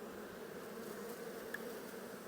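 Soft, continuous buzzing of many honeybees, a steady hum without pauses and no voices.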